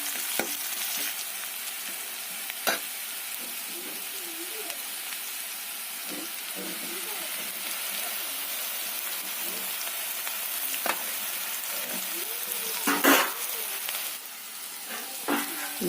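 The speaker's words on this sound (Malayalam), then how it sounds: "ചെറുതായിട്ട് അരിഞ്ഞ വെളുത്തുള്ളി ആ നടുവിൽ വെളിച്ചെണ്ണയിലോട്ട് ഇട്ടിട്ട് ചെറുതായിട്ടൊന്ന് മൂപ്പിച്ചെടുക്കും" Finely chopped garlic and onion frying in coconut oil, a steady soft crackling sizzle close by, with occasional louder pops and a few clinks from stirring throughout.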